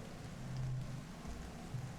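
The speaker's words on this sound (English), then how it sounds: "It's pouring rain and everyone's trying to stay under the grass-roofed Lapis." Steady pouring rain in the video game I Was a Teenage Exocolonist, a soft continuous wash with low rumbling swells, heard alone at moderate level.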